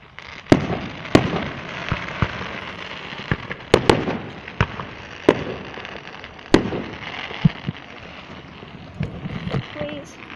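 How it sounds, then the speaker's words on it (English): Canada Day fireworks bursting outdoors, a series of sharp cracks and booms at irregular intervals, some near and loud, others fainter, with wind noise and occasional talk between blasts. "See those fireworks?"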